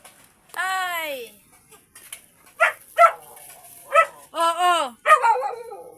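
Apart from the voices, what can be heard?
dog barking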